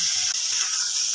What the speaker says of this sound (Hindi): मटर हम 2 मिनट के लिए फ्राई कर लेंगे।